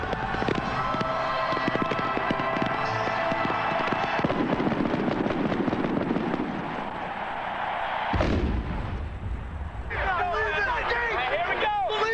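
Fireworks burst over the Miami sky at Super Bowl XXIX between San Francisco and San Diego, a dense continuous barrage of booms and crackles amid crowd noise, loud throughout.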